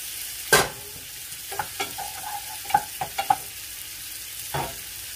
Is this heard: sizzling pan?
yes